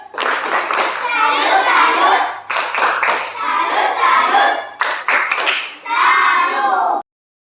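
A class of children does a rhythmic salute clap for a classroom group, three bursts of loud, close clapping and chanting with short pauses between, in an Indonesian school lesson.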